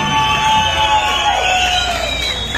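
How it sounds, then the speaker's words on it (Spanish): Crowd at a biker club's first anniversary gathering cheers with a loud sustained whistle and shouting, a steady bright tone riding over general noise for a couple of seconds. "si no esperamos el aplauso y el chiflido para estos cabrones"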